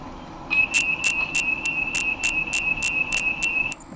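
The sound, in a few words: insect chirping, a bug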